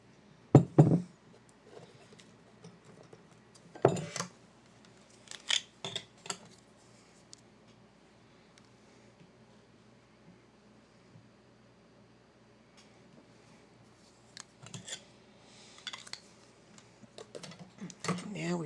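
Scissors snip a tail thread on a beaded sun and moon earring, a few sharp close clicks and cuts in short clusters separated by quiet handling, with faint speech now and then.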